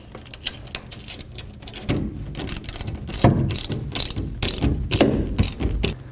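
A ratchet clicks in rapid bursts while tightening a bolt on the clamp of an Agri-Cover LORADO roll-up tonneau cover on a Toyota Tundra, the clicking growing louder and denser toward the end.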